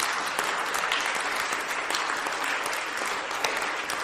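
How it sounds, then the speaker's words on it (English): A podcast audience gives a big round of applause for the show's production staff, dense and steady clapping that holds at an even level throughout. "will you give a big round of applause for the staff that helped produce the last 100 shows?"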